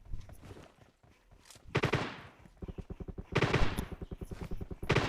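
Video game gunfire in PUBG Lite aimed at an enemy up on a tower: rapid bursts of repeated shots in rhythmic volleys, separated by short gaps, punchy and close.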